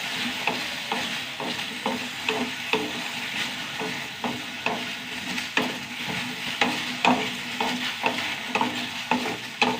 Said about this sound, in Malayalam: എന്തൊക്കെയൊന്ന് വറുത്തെടുക്കട്ടെ കേട്ടോ